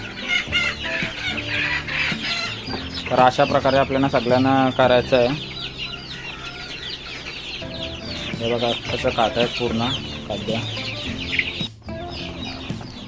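Several chickens on a poultry farm clucking and squawking close by in a busy, overlapping chorus as they feed on neem leaves, while someone talks over them.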